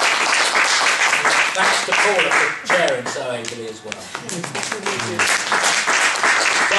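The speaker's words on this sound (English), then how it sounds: "I think a round of applause for all of you" Conference audience applause, loud and continuous, thinning briefly in the middle while someone speaks over it, then swelling again to the end.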